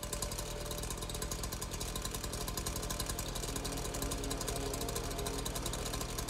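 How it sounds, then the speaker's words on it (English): A chainsaw engine runs in the VR game Hot Dogs, Horseshoes & Hand Grenades, making a continuous dense mechanical buzz that holds steady throughout with no talking. "you've got the, of course, the chainsaw, the chain part of it. Can rip sausages apart"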